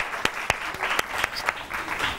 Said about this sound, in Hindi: उरूज फातिमा के लिए तालियां।